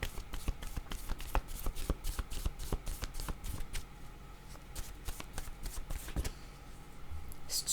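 Tarot cards being shuffled by hand, a quick series of crisp riffling snaps and flutters repeating at irregular intervals, close and clear with no talking.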